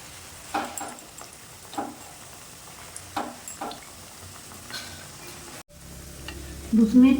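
Mung dal pithe frying in a pan of oil, a soft continuous sizzle with several brief knocks and scrapes as the pieces are stirred and turned, and a louder clatter near the end.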